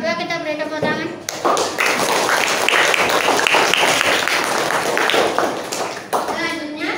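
A classroom of students claps for a presenting student group after their turn, a dense burst of hand clapping lasting several seconds, with voices speaking at the start and end.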